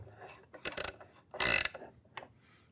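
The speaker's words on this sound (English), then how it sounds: "have here the wrench with 72 teeth. So that means if you want to release or to tighten your screw, it goes very fast, very easy." A 72-tooth ratchet wrench clicks in several quick bursts of fine, rapid ratcheting, close and fairly loud with short pauses between strokes, and no voice over it.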